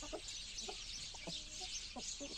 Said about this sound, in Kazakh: Мына қораз, мына тауық.